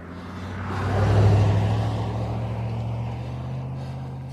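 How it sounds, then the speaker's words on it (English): A big truck passes on a road beside a cyclist, its low rumble swelling to a peak and then fading into steady wind and traffic noise. "big truck just went by."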